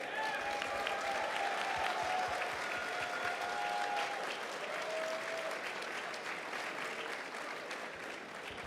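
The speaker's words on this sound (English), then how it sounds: "Let's give these guys a round of applause." Crowd applause at the QuakeCon 2014 finals party: sustained clapping from a large audience in a big hall, loud and continuous throughout, with some cheering and faint voices mixed in.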